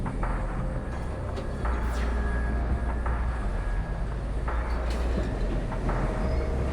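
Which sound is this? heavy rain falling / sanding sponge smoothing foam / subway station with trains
subway station with trains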